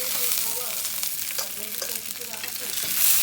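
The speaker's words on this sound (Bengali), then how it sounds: "মাছের মাথাগুলো ভাজি হয়ে গেছে" Katla fish heads frying in oil in a pan, a continuous close sizzle with faint crackles and stirring scrapes, quiet and without voices.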